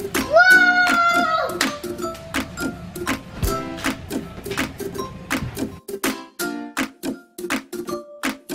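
Children's hands clap in quick sharp bursts among the clatter of a toy marble run with gears and an elevator, ringing tones and voices mixed in.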